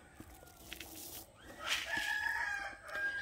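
Chickens cluck softly at a distance on a farm, then a rooster crows in a long, rising call that carries over low background noise.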